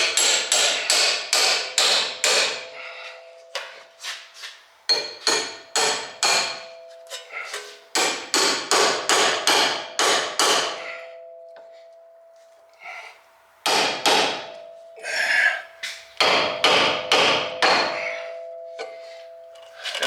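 A hammer strikes the end of a ball joint bolt during a front ball joint replacement on a Lexus IS300 drift car, ringing metallic blows in rapid bursts of several hits separated by short pauses, loud and close with no talking.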